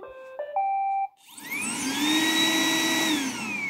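An iRobot Roomba 980 robot vacuum cleaner starts after a reset. A short sequence of electronic startup beeps is followed by the motor whirring up into a steady, loud, rising hum, heard close with no speech.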